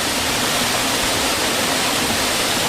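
Small twin waterfall in the rainforest on the Rongai route of Kilimanjaro, a steady broadband rush of falling water that fills the whole clip without pause and with no voices.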